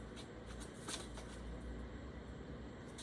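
Soft, close rustle and slide of cards being drawn from a deck during a card reading, faint and brief against a low background hum.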